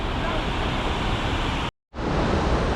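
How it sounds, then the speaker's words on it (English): Strong rushing water by a river beside a shopping complex in Tashkent, a steady loud broadband roar with a brief dropout near the end before the flow noise resumes. "Oh look at the stream of water,"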